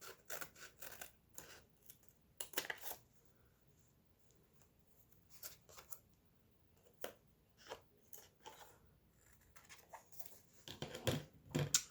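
Scissors snip through scraps of Christmas wrapping paper in short bursts of crisp cuts, close and fairly quiet, with pauses between runs of snipping and a small rustle of paper.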